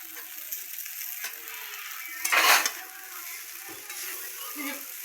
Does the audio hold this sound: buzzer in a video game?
no